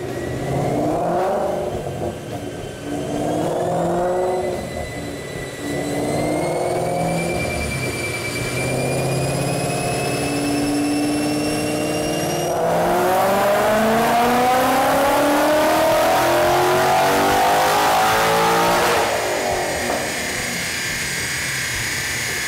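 A supercharged Ford Mustang, a 2015-or-later car with a Roush Phase 2 supercharger, making a pull on a chassis dyno: the engine revs loudly and climbs steadily through the gears with rising supercharger whine, then backs off near the end.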